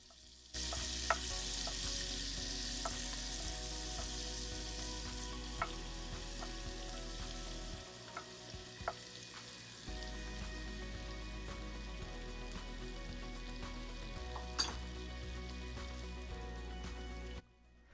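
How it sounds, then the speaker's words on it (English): Butter melts and sizzles in rendered bacon fat in a soup pot: a steady, dense frying hiss runs throughout, with occasional pops and light stirring clatter, and no talk. "I'm going to be adding in some butter to help fortify this base and also to build more flavor to our soup."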